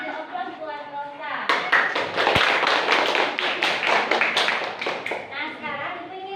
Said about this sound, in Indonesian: Kasih aplaus buat Rosa